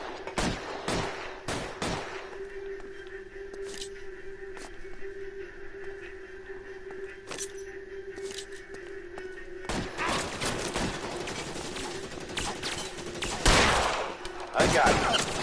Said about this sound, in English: Lay down some covering fire!